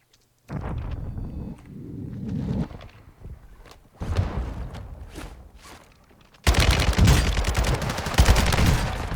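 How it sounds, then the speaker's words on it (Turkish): Gunfire from Warzone 2.0 gameplay, loud rattling bursts and scattered shots in uneven clusters, growing louder and denser toward the end. "Diyorum acımadan sıkıyorlar."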